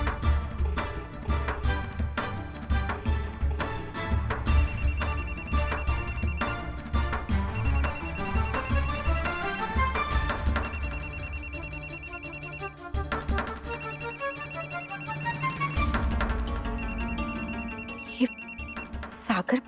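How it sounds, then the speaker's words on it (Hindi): A mobile phone rings repeatedly in a dramatic TV serial scene, a steady electronic ringtone pattern cycling over a dense bed of background music, loud and continuous throughout. "सागर बार बार फोन क्यों कर रहा है?"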